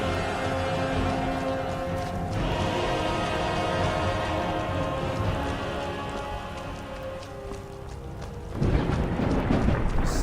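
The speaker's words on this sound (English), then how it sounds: "Still raining." Rain falling in the video game Skyrim, a steady loud hiss of drops on surfaces with low thunder-like rumbling underneath, intensifying near the end.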